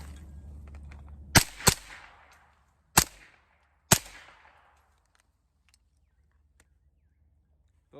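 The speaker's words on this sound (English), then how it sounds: "I'm still getting a supersonic crack from the 147s" Four sharp gunshots with a supersonic crack from 147-grain ammunition, fired through a long-barreled 7.5-inch custom gun; two come close together, then two spaced singles, loud and near with short decaying tails.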